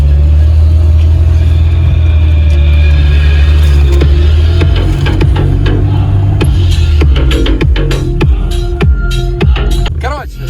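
A VAZ 2106 car engine held at steady throttle while drifting, a loud continuous low throbbing hum with clicks and rattles rising near the end, and speech over it.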